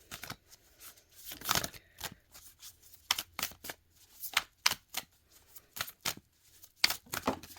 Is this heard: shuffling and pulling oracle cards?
yes